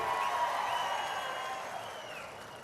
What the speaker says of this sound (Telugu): కష్టపడిన వాళ్ళందరికీ గట్టిగా చప్పట్లు కొట్టి అభినందించండి